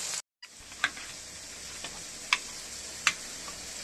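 Small shrimp sizzle in hot oil with a steady, quiet fry hiss, broken by a few sharp crackles and pops. There is a brief gap of silence near the start.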